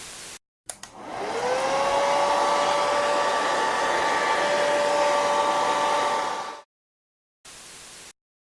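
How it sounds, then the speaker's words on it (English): A hairdryer blows steadily for about six seconds while heating a vinyl skin on an iPhone 6, a loud whooshing hiss with a faint whine. It clicks on and off, then returns briefly. "Heat the middle section of your skin with the hairdryer."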